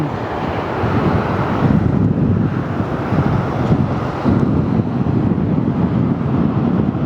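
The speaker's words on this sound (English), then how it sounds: "Wind is blowing me about a bit." Wind gusts buffet the microphone outdoors at an airport plane-spotting park, a loud, constant low rumble with no clear break.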